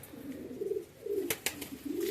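Pilanka pigeons coo in soft, repeated low rolling phrases, close by, with a couple of sharp flaps or taps in the middle.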